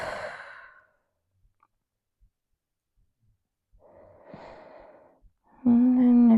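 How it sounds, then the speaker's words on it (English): Deep exhale during a seated forward-fold stretch, one audible sigh-like breath at the start, then quiet, followed by another breathy exhale and a brief voiced sound at the end. "And breathe."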